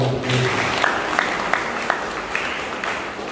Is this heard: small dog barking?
no